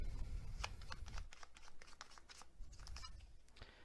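Tarot advice cards being shuffled by hand from a deck, a soft papery riffle of quick flicks and slides, close and fairly quiet, with no talking.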